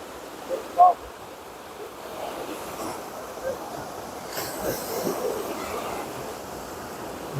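Ocean waves at Palma de Mallorca wash in steadily with a broad rushing surf and some wind noise, continuous and moderately loud throughout.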